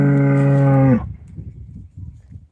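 A single loud, close cow moo, a long sustained tonal call lasting about a second, followed by faint rustling background noise.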